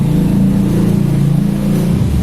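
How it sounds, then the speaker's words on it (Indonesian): A warmed-up motorbike engine that has just been started idles close and loud in a steady rumbling drone, with only slight wavering throughout. "Ini kondisi mesin habis dinyalakan, habis dipanasi ya."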